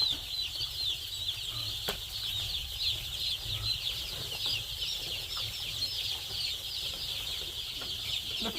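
Chickens and chicks in a brooder cluck and cheep softly and continuously over a low background hum, with a faint knock partway through.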